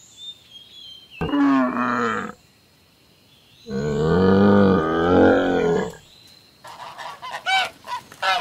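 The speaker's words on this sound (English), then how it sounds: "Camel." A camel bellows in long, throaty groans, two drawn-out calls separated by a pause, followed by shorter rasping cries near the end.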